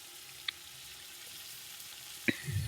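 Potatoes frying in a pan while cooking a chicken dish, a faint steady sizzle with a couple of sharp clicks and a brief stirring scrape at the end.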